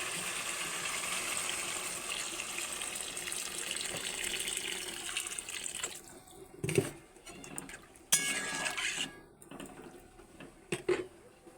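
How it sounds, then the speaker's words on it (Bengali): Water is poured into a pan of masala-fried potatoes for vegetarian aloo with lentil fritters, a steady running splash for several seconds that then breaks into intermittent pours and clinks of the pan, with no talk. "এবার আলুটা সেদ্ধ হওয়ার মতো পরিমাণ মতো জল দিয়ে দিচ্ছি।"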